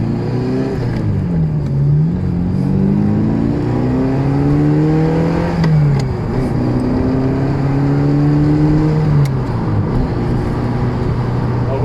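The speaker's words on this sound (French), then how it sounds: "quand je passe ces vitesses un peu plus sportivement, on entend bien le clic de la boîte, qui est mythique" A Ferrari 348 TS engine revs loudly and close as the car accelerates through several gears, with pitch climbing then dropping at each shift and brief gearbox clicks between pulls.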